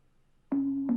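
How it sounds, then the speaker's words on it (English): A short synth pluck tone from an electronic music track starts abruptly halfway through and holds as a steady sustained pitch, retriggering near the end, clear and isolated with nothing else around it. "we have this little pluck element as well"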